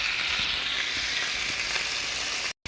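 Meat sears in hot grease in a skillet, a steady loud hiss and crackle of sizzling fat that runs without pause before cutting out abruptly near the end.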